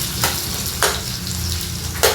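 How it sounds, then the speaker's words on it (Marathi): Onion frying with green chilies in hot oil for a green moong dish, a loud continuous sizzle with a few sharp stirring scrapes, close up. "मिरच्या चांगल्या परतायच्या. आता कांदा टाकून घ्यायचा."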